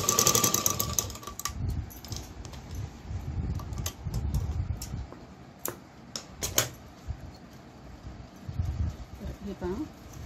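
A sewing machine runs a double seam in short rhythmic bursts of rapid mechanical chatter, close by, pausing between runs while someone talks over and between the stitching.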